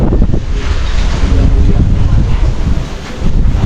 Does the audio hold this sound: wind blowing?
yes